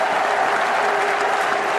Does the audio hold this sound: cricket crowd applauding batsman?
yes